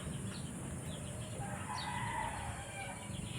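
Chickens cluck and crow around a farm feed area, a steady mix of fowl calls over a constant noisy background, with a clearer call rising near the middle.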